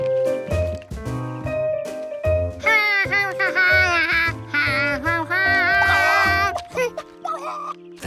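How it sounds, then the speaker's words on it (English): A frantic, warbling cartoon chicken squawk in distress, with rapid, wavering high cries rising over a loud animated soundtrack with music and effects. "That sounded like a chicken in trouble."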